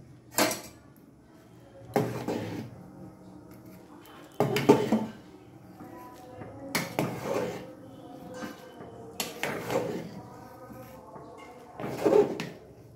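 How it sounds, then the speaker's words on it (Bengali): Vegetable khichuri with grated ginger and green chillies being stirred in a cooking pot: a spoon scrapes and knocks against the pot in about six separate bursts, close and fairly loud, with quiet stretches between them and no talking. "ভালোভাবে আমি নেড়ে দেব, না হলে লেগে যাওয়ার ভয় থাকে।"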